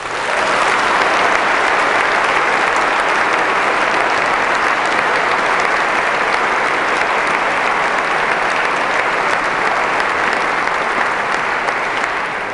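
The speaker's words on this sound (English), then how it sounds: "I think we owe them a round of applause for that." Sustained applause from a large audience after a university debate on God's existence in the Great Hall at the University of Birmingham, steady dense clapping at full strength throughout with no voices over it.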